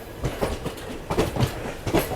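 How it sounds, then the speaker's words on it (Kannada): A passing train that shares its rake with the West Coast Superfast rattles by with rhythmic clickety-clack of wheels over rail joints, a continuous moderate rumble heard alone. "ಇದು West coast super ಫಾಸ್ಟದ rake sharing ಗಾಡಿ ಇದು."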